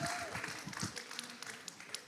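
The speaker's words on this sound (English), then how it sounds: "let's give a round of applause for California" Faint, thin applause from a small alumni gathering audience, a scattering of claps that stays quiet and tapers off over a couple of seconds.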